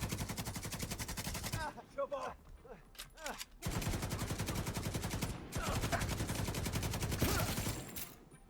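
An LMG in The Division 2 fires long, rapid automatic bursts, loud and close, broken by a short gap of scattered single shots before the sustained fire resumes.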